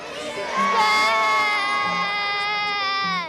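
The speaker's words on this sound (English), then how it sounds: "We want you to yell whiskers and stare at Murphy's face." A crowd at a zoo seal show shouts together on cue, a loud sustained collective yell dominated by children's high voices, rising sharply and holding for a few seconds.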